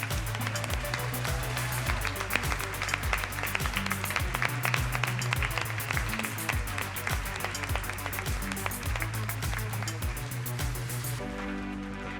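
Audience at the Hello Women 2023 event applauding hard, a dense, sustained clatter of many hands with a rhythmic low beat beneath, steady and loud until it thins at the end.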